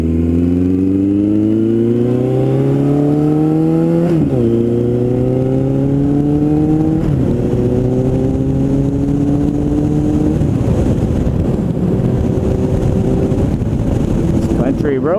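A 2008 Suzuki Bandit 1250S motorcycle revs through rising gear pulls on a country road, engine note climbing then dropping at each shift, with crackling exhaust pops growing more prominent toward the end, loud and close.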